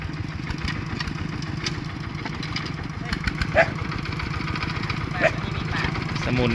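Farm tractor engine chugging steadily nearby, a continuous rhythmic rumble with a couple of brief knocks or clanks, while people talk faintly over it.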